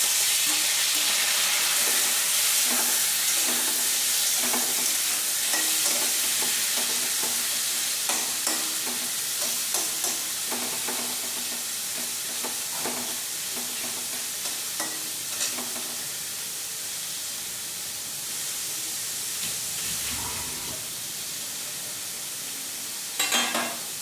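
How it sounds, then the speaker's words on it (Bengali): Prawns fry in hot mustard oil in a wok, a steady close crackling sizzle with bursts of spatter and occasional scrapes and stirs running the whole time, no voices. "তেলটা গরম হয়ে এসেছে এবং আমি চিংড়ি মাছটা একটু হালকা ভেজে নেব।"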